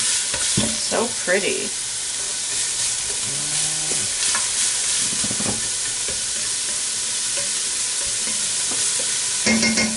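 Vegetables cooking down in a pan for egg drop soup, a steady close sizzle with intermittent stirring scrapes and clatter, and a brief remark spoken over it.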